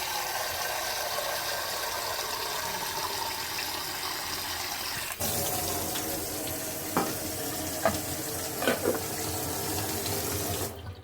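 Continuous rush of running tap water filling a pot for rice, steady throughout, with a few faint clinks and knocks near the end.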